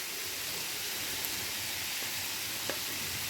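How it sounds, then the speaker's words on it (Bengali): Green tomatoes frying into bhaji with salt in a pan give off a steady, even sizzle that holds at a moderate level throughout, with a couple of faint ticks and no talking. "তো আজকে আমি যেটা করতেছি সেটা কাঁচা টমেটো ভাজিই করতেছি"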